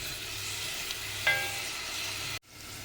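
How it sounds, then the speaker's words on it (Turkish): Onions and carrots sauté in a pot for celery soup, a steady soft sizzle with a brief clink of a utensil midway before the sound cuts off abruptly. "Biraz da havucumla kavuracağım."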